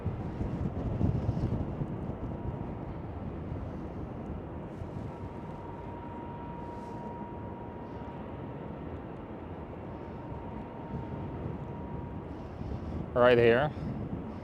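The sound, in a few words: Iberia Express Airbus A320neo airliner at Schiphol, wind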